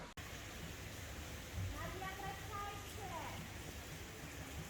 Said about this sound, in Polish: ulewa do nas przyszła